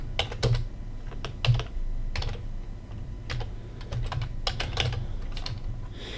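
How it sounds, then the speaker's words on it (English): Keystrokes on a computer keyboard as an email address is entered, coming in quick clustered bursts with short pauses, close and fairly clear over a low background hum. "I am going to type in an email address in here"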